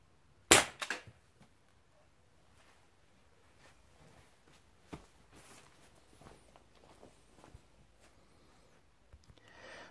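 An air rifle fires a JSB Predator pellet into a bar of soap: one sharp, close, loud shot with a quick impact, then a few soft handling clicks and rustles.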